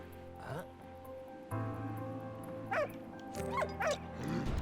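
A dog in the World War I video game Valiant Hearts: The Great War gives a few short yips and whimpers in scattered bursts over a low ambient game background, with no talk.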